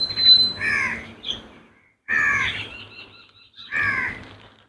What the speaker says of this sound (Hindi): कितने कौआ बैठे हुए हैं एक साथ